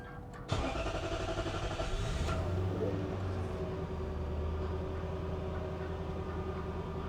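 A Lexus LS430 V8 engine cranks and catches, then settles into a steady, rumbling idle that continues to the end; a voice speaks briefly.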